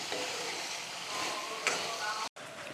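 Chicken curry with taro and yogurt sizzling steadily in a pan while being stirred, a continuous close frying hiss with scraping stir strokes and a brief dropout near the end.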